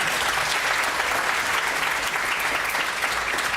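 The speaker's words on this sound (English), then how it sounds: "I really do feel like that deserves a round of applause" Loud, sustained applause fills a welcome session of a family research study gathering, a thick uniform patter of many hands clapping without a break and no speech over it.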